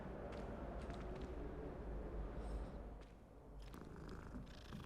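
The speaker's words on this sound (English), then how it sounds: "Let me pet the cat." A cat in the video game Hogwarts Legacy purring steadily while being petted, a low continuous rumble heard close up and quiet, with faint game ambience behind it.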